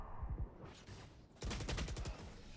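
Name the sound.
gunfight in video game Valorant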